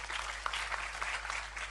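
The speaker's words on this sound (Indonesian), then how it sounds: "Tepuk tangan untuk beliau juga" Brief, faint applause from a crowd at a public talk, a soft scattered patter of many hands clapping under a steady low hum.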